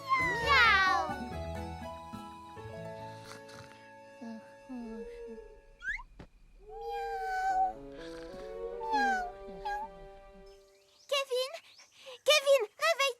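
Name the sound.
cartoon cat meowing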